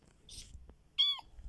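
A small kitten in the Minecraft video game gives one clear, fairly loud meow over faint background sounds, preceded by a brief soft rustle.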